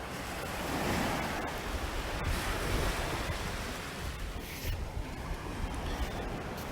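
Surf rolling onto Vessigny Beach in Trinidad, a continuous broad wash of breaking waves with wind buffeting the microphone, no voices.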